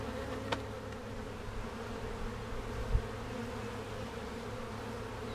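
Honeybees buzz around an open hive as a frame is worked in hot weather, a steady close drone of many wings with a couple of brief louder passes, no voices.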